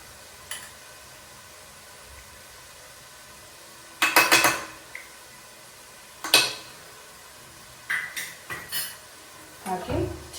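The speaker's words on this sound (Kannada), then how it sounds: "ಹಾಕಿ ಚೆನ್ನಾಗಿ ಮಿಕ್ಸ್ ಮಾಡಿ" A spoon clatters against a pan while coriander powder is mixed into prawn masala, giving several sharp metallic clinks and scrapes spaced apart over a quiet background.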